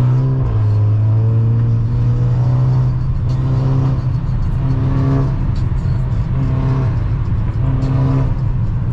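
A BMW car accelerates with traction control switched off, its engine droning loudly and steadily with revs rising and falling, close and continuous with no talking.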